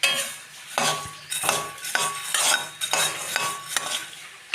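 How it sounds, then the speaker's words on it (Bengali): Softened fried flattened rice (chire bhaja) being tossed in a wok, with repeated rhythmic scraping and clinking of a metal spatula against the pan in bursts about every half second, close and clear, no talk. "তো কী করছি, একটু কড়াতে নেড়ে দিচ্ছি"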